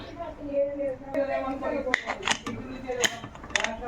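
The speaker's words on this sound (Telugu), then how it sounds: "కుక్కర్కి మూత పెట్టేసుకుందాము." A metal lid clanks and scrapes onto a pressure cooker holding mutton curry, several sharp knocks and clicks close by, with faint talk in the background.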